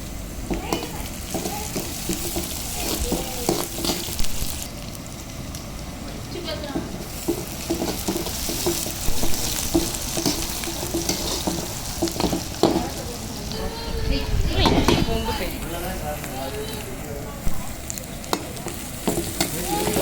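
Roughly chopped ginger and garlic fry in an oil-filled pan and are tossed, giving a steady sizzle broken by scraping and clattering as they are stirred. A voice speaks faintly in places.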